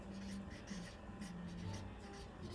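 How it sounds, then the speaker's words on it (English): Marker or pen writing words on a board during a kindergarten lesson, a steady scratchy rubbing with brief pauses between strokes, close and fairly quiet, with faint background hum. "let me see if I can write this"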